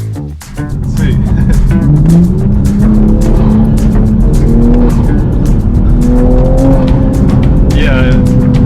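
A Toyota Supra MK5 fitted with a CTS high-flow turbo inlet pipe revs loud and close, the engine note climbing steadily with a roaring, slightly raspy tone that covers the whole stretch.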